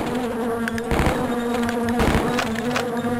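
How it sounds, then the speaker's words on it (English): A bee or two buzzing in the 1997 video game Shadow Warrior, a continuous close drone broken by a couple of brief thuds. "A bee or two. I don't know if they can get in."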